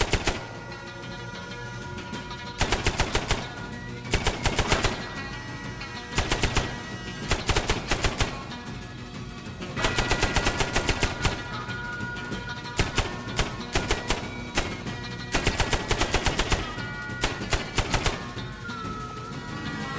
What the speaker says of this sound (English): This is the moment to use the turret.